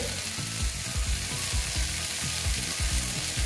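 Oil sizzles in a pan while cooking an egg and okra dish. A steady, close frying hiss runs throughout, with soft low knocks repeating at a regular pace underneath.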